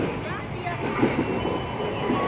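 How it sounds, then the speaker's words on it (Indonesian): An eight-car JR 205 commuter train bound for Jakarta Kota pulls into Cawang station with a steady, close rumble and faint wheel squeal. A voice speaks over it. "ini dia komuter tujuan stasiun Jakarta Kota"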